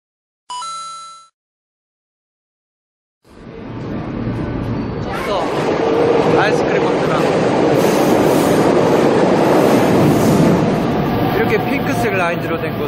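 A metro train at Cinelândia station in Rio de Janeiro, heard after a short electronic chime and a pause, rumbling in loudly with rising wheel clatter and squeal that stays strong and close, under a busy platform with voices.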